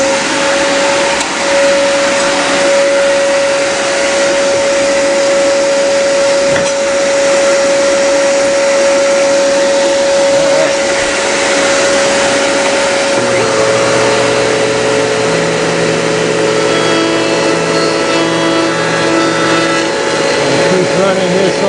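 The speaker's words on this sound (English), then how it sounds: "Let me turn on my vacuum here." Shop vacuum running steadily and loud in a woodworking shop while a router is set up, a constant whine and rush that shifts pitch partway through as the load changes.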